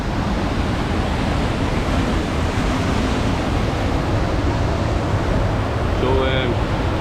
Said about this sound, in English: The water's really forcing through.